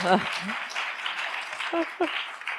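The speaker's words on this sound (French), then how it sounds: "On peut l'applaudir, ça va mettre de l'énergie dans la salle à chaque fois" Audience applause in a conference hall at an HR-challenges event, a steady wash of clapping throughout with a voice talking over it at the start and again near the end.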